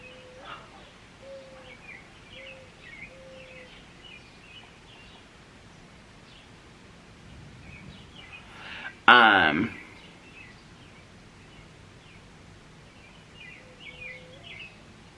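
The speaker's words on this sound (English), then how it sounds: "Do you hear that bird? So pretty." Faint bird chirps repeat intermittently in the distance over a soft outdoor hiss, interrupted midway by a brief loud rustle.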